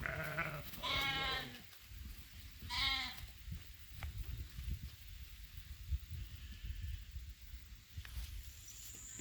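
Sheep being moved on a farm give two loud, close bleats in the first few seconds, then only soft rustling and quiet outdoor ambience follow.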